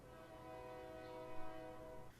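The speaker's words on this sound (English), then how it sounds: "Another train." A train passes at a distance, giving a sustained rumble with a droning horn-like tone, faint and continuous, with no talking.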